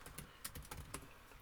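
Computer keyboard typing while entering characters into a search field in a business app, a quick irregular run of soft close key clicks with a few sharper strokes and no voices.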